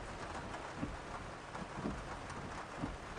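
Steady rain hiss in the Bus Driving Simulator EVO video game, a dense even patter with a few soft low thumps scattered through it.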